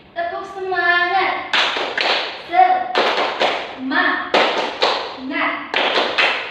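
A classroom of pupils claps a rhythmic cheer in quick, even bursts, alternating with voices chanting in unison between the clap sequences.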